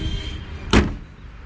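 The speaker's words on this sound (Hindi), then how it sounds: "तो बंद कर लेता हूँ मैं बोनेट को," A single sharp thud as the bonnet of a Mahindra Scorpio BS6 S9 is shut, a short loud slam with a brief metallic ring, alone against quiet surroundings.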